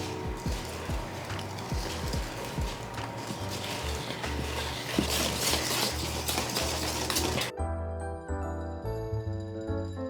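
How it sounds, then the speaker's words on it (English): Cake batter being whisked in a bowl for a Black Forest cake, a steady run of rapid scraping and clinking for most of the stretch before it cuts off abruptly into quieter faint background tones. "And now we just wanna whisk this together until it's smooth"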